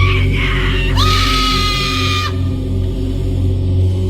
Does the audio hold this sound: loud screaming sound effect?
yes